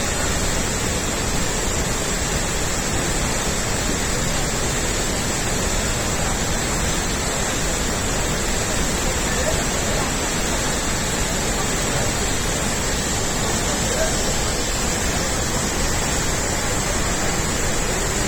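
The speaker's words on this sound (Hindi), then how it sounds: "ये आप देख सकते हैं, ये अहरबल वाटरफॉल है" Aherbal waterfall in Kashmir gives a constant, dense roar of falling water, a steady broadband rush with no breaks across the whole stretch, loud and unvarying.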